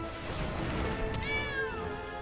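The Longtusk Cub card in the Magic Arena video game gives a single clear, drawn-out cat meow over a steady background of game music.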